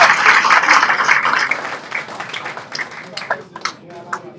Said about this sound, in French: Est-ce qu'on peut applaudir DG à vous, monsieur le président?